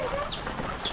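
Chickens cluck close by in a Konkan village during the monsoon rain, with a couple of short squawking calls over a low patter of background noise.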